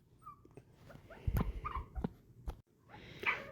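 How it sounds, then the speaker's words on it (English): A young female puppy whimpers and yips in short high-pitched bursts, wanting to come in, close by with some thumps and rustling around it. "If you hear those like puppy sounds, she wants to come in to say hi"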